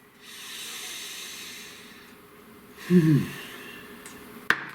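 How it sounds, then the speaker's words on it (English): A single deep breath drawn in slowly and let out with an audible snort-like hiss, close to the mic, in a quiet room with no talking. "Please take a nice deep breath."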